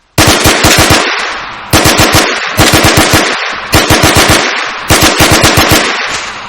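An MP9 9mm submachine gun fires in Arma 3 with the IFA3 WarMod in five rapid, loud bursts of several shots each. Short pauses separate the bursts, and each one ends in a ringing echo tail. No one speaks.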